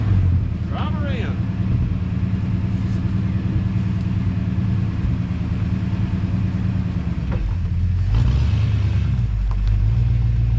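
Abandoned 1964 Ford Fairlane Thunderbolt clone, started for the first time in 29 years, its V8 rumbling low and steady as it is driven in, swelling louder near the end, with people talking over it.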